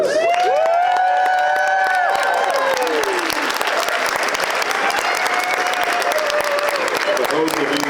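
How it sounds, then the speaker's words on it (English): Culinary students at a ProStart championship receive sustained applause from a large audience, dense clapping mixed with cheering and some voices, loud and steady throughout. "How about a round of applause for our students?"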